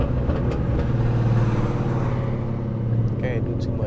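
A Mustang GT with loud aftermarket headers rumbles past on a road, its exhaust note swelling as it goes by, with voices talking over the engine.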